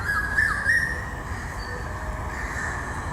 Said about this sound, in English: The bird sound,